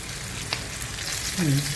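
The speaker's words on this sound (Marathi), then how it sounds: "आता मी हे तुम्हाला असे परतवून घेताना दाखवते आहे." Green chillies frying with spice masala in a pan, a close steady sizzle with a brief clink and a short stirring scrape, while a voice is faintly heard.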